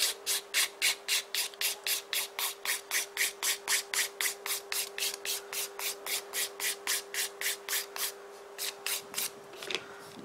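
A nail file rasps across a nail in about thirty quick, even strokes, steady and close, with a short pause and a few final strokes near the end and no voices.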